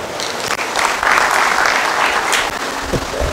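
Congregation at a Sunday church worship service clapping together, a steady dense round of applause filling the room for about three seconds.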